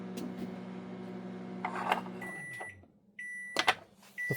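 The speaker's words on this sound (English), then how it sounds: "the microwave." A microwave oven runs with a steady low hum, then several short electronic beeps ring out near the end, with clunks like a door or handling in between.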